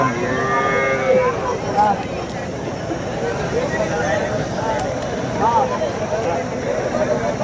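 Jersey milk cows at a village cattle market low repeatedly, several moos rising over a steady crowd babble and livestock bustle throughout.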